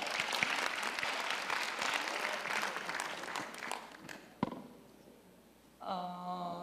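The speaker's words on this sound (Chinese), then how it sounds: "掌声欢迎他" Audience applause at a sports awards ceremony welcomes the women's volleyball team captain; dense, steady clapping fills most of the stretch, fading out before a brief tonal sound near the end.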